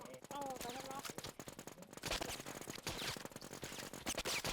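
Video game gunfire rattles in rapid bursts beneath excited shouting voices, with steady chattering shots running through the whole stretch.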